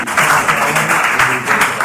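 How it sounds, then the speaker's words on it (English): A crowd gives a short round of applause, with steady dense clapping at fairly close range that persists for under two seconds. "With a big round of applause."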